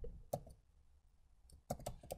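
Several separate key clicks on a computer keyboard while text is entered into Premiere Pro: one sharp click, a quiet pause, then a quick cluster of three or four taps near the end, all close and fairly soft.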